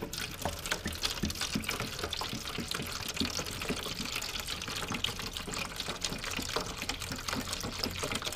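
Corrosive liquid pours steadily into a container, a continuous splashing gurgle that stays faint throughout.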